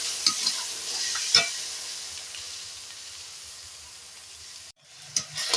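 Onion paste with cumin, ginger and garlic paste sizzles steadily in hot oil in a pan as water goes in, a broad close hiss with a few light scrapes of stirring that drops out abruptly near the end before brief clatters return.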